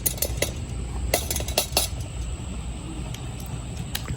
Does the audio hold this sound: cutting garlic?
yes